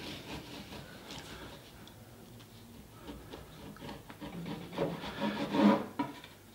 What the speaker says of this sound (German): Dann schneiden wir eine schöne Scheibe runter.